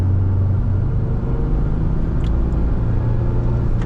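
A 1997 Toyota 4Runner with a five-speed manual gearbox, running at highway speed, gives a steady low engine and road rumble throughout, with a slight change in tone as it shifts up, heard from inside the cabin.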